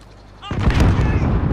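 Gunfire in the video game Call of Duty: Modern Warfare on PS4: a sudden loud burst of shots starts partway in and rolls on as dense, booming fire to the end.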